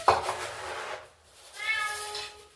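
Housecat meowing near a poop tray being cleaned, a short meow at the start, then a longer drawn-out tonal meow, close and fairly loud with brief rubbing noise between.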